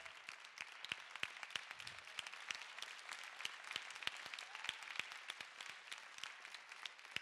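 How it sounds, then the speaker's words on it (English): An audience at a public forum talk by a former LEGO Master Model Builder claps steadily for several seconds, producing dense, even applause with sharp individual claps, faint and somewhat distant. "Big round of applause for Dan."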